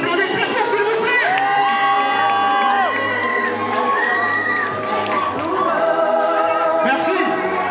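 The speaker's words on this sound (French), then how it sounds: "Et on applaudit très fort, s'il vous plaît." Loud crowd cheering, whooping and shrieking at a wedding ceremony, sustained throughout with children's shouts and scattered clapping mixed in.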